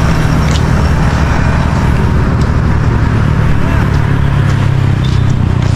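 Road traffic in Koronadal City, a dense continuous rumble of passing cars and motor vehicles heard close and loud, with a low engine drone running throughout.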